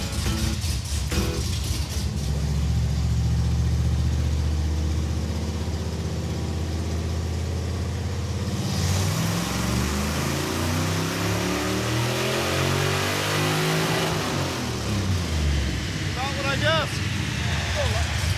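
Hemi V8 in a Mopar muscle truck revving hard on a dyno, a loud sustained engine roar that climbs and sweeps up and down in pitch over many seconds, with brief speech near the end.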